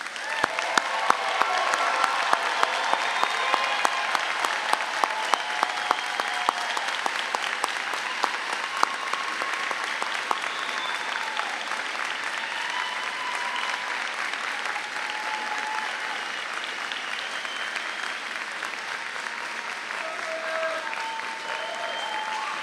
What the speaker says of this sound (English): Please join us in congratulating our graduate with a round of applause